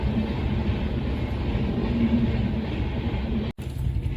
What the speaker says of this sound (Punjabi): ਇਹ ਟ੍ਰੇਨ ਲੰਘ ਰਹੀ ਹੈ ਜੀ ਮੈਨੂੰ ਲੱਗਦਾ ਸਟਾਫ ਦੀ ਹੈ ਇਹ